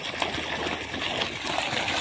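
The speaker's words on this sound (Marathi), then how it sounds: "पाहू शकता वाला आपली मोटर सुरूच आहे." A farm water pump motor runs in a field while water gushes and flows steadily, a continuous rushing wash at moderate distance with no speech.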